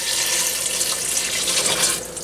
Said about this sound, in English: Okay, so I've got a 2-quart container here with water.